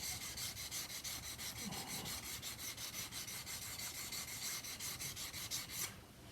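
Steel chisel blade rubbed back and forth on a sharpening stone, a steady rhythmic scraping with even strokes, close and continuous until a pause near the end.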